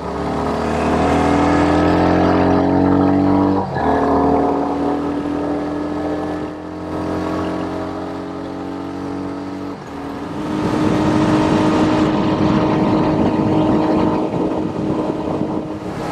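A Royal Enfield Hunter 350 motorcycle drones steadily while riding, with shifting pitch as it revs and changes gear, buffeted by wind noise throughout.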